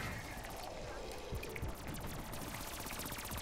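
Rapid gunfire in a zombies video game, a dense continuous rattle of automatic shots mixed with game noise, fairly faint and steady throughout.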